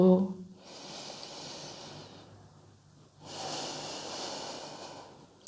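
Two slow, deep breaths during a yoga pose in a sun salutation, each a long, close, airy inhale or exhale lasting about two seconds, separated by a brief pause.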